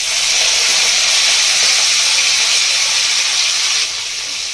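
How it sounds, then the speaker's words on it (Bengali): Dark soy sauce sizzles in a hot pan while fish roe snacks cook, a steady loud hiss with no pauses that eases slightly near the end. "এবার আমি দিয়ে দেবো এর মধ্যে 1 চামচ মতো ডার্ক সয়া সস"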